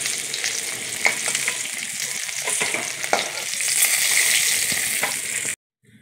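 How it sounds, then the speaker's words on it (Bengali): Rohu fish heads fry loudly in hot oil, a dense crackling sizzle broken by sharp utensil scrapes and stirring before it cuts off abruptly. "মাছের মাথাগুলো ভাজা হয়ে গেছে"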